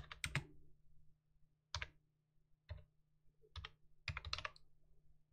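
Quick bursts of keystrokes as a password is typed on a computer keyboard during a 9Front auth server setup, heard as close, quiet clusters of clicks separated by short pauses, with no talking.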